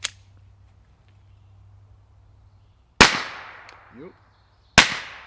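An SD Tactical Arms M22 fires supersonic Aguila 38 grain hollow points, giving sharp, suppressed-sounding reports spaced seconds apart outdoors, with a short spoken word and a faint metallic clink between shots.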